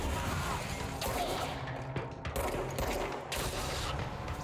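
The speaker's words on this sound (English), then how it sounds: "I don't know what these heat-seeking rockets are" Heat-seeking rockets fire in the video game Control, giving a dense run of loud bursts, crashes and whooshes in quick succession.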